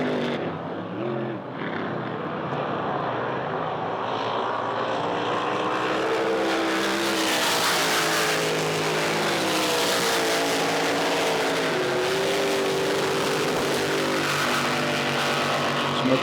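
Racing boat engines at a B.A.D boats National Drivers Championship round in Windsor drone loudly and continuously, with pitch rising and falling as boats accelerate and pass, building in intensity with no speech.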